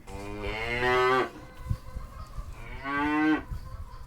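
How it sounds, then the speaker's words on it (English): Two long, loud cow moos, one after the other with a brief pause between, each a low drawn-out bellow rising and then fading. "That was a cow."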